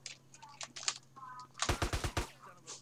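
Enemy gunfire in GTA San Andreas: a few scattered shots early, then a rapid burst of about six loud, sharp reports in quick succession, over low background noise.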